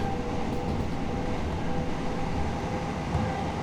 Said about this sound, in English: Apparently we're driving an 8-car train